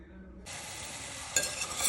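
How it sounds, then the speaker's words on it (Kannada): Sliced mushrooms hit a hot pan with mint and burst into a sudden sizzle that holds steady, then crackle louder as they are stirred, close up with no voices. "ಮಶ್ರೂಮ್ ಹಾಕ್ಕೊಂಡಿದ್ದೀನಿ. ಹಾಕ್ಕೊಂಡು ಫ್ರೈ ಮಾಡ್ಕೊಳ್ಳಿ."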